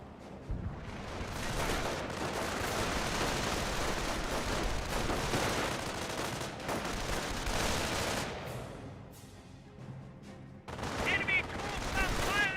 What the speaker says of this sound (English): Enemy troops are firing on us!